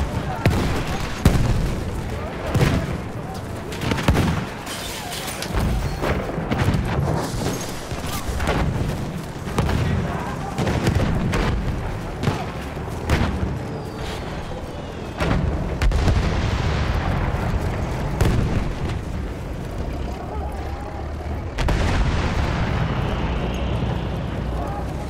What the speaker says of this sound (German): Granate ist raus, hol zu!